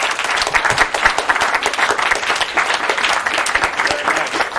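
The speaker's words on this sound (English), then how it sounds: "give a round of applause for" An audience at an anti-fascism talk applauding: dense, steady clapping from a sizeable crowd, sustained and fairly loud throughout the few seconds.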